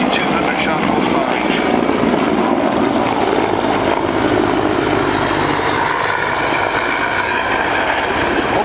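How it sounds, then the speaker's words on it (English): A Mi-24 Hind helicopter's twin Isotov TV3-117 turbine engines roar steadily and loudly throughout at an airshow, a dense, unbroken mechanical drone with a high whine on top. "It's a twin engine helicopter, two Isotov TV317 turbines, 2200 shaft horsepower."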